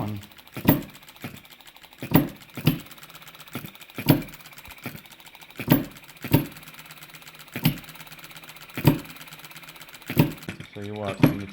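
A miniature hit-and-miss engine fires in sharp, evenly spaced pops about every second, with a soft mechanical whir and ticking between firings, close up.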